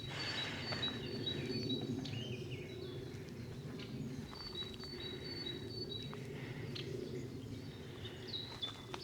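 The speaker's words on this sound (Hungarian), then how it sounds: "Hallgassátok kicsit ezt a madárcsicsergést." Birds chirp and whistle in a Hungarian forest over a steady dense chorus of crickets and insects, a continuous moderately loud outdoor ambience.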